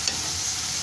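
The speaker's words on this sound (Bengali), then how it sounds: "দিয়ে এটাকেও আমি ভালোভাবে নেড়ে নিচ্ছি।" Chopped tomatoes stirred into a sizzling pan while cooking noodles, a short burst of steady frying hiss with a couple of brief utensil scrapes at the start and end, close up and without talk.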